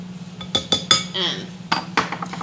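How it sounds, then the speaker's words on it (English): A utensil cuts lard into a flour mixture for homemade tortilla dough, making several sharp metallic clinks and scrapes against the bowl over a low steady hum. "So you're just cutting in this lard."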